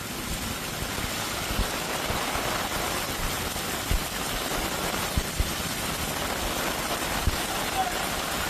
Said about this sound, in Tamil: ஸ்ரீவில்லிபுத்தூர் மற்றும் சுற்றுவட்டார பகுதிகளில் இடி மின்னலுடன் கனமழை கொட்டி தீர்த்தது.